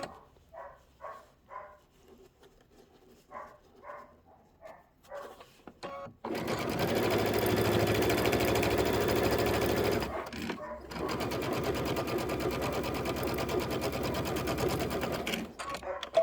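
A sewing machine runs back and forth stitching the outer borders of a quilted table topper. It starts after a stretch of speech and gives two long, loud mechanical whirring runs separated by a brief pause.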